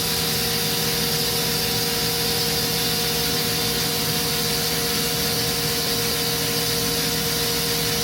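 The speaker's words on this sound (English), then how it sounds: "he's going to show us how they balance their impellers." A Procharger supercharger impeller spun up on a balancing machine in a shop, a loud steady whirring drone with sustained tonal whine, constant throughout without pauses or voices.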